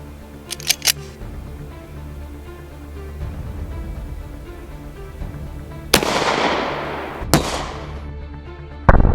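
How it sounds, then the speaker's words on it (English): A handgun fires 230-grain FMJ PMC rounds into ballistics gel: two sharp, loud reports a second or so apart, each ringing out, following some faint clicks and handling noise. "first up, FMJ, PMC ammunition, 230 grains. First shot, ready to rock and roll."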